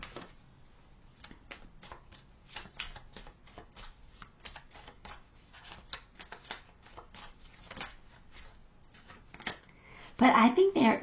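Tarot cards are shuffled in rapid, dry riffling bursts close to the microphone, repeated through the stretch, with a short louder rustle at the end.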